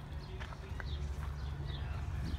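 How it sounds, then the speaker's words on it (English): Two horses' hooves clop softly at a slow, uneven pace over a low steady hum, with faint outdoor sounds around. "Oh, they got two horses now."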